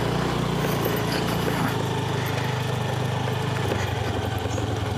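A motorbike engine runs steadily while riding downhill on a road near a tribal hill village at the edge of the Western Ghats, a continuous close drone that shifts in pitch partway through.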